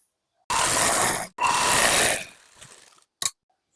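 A sewing machine stitches the lining of a blouse, two close loud bursts of rapid mechanical whirring separated by a short stop, then fading clicks and a final brief clack.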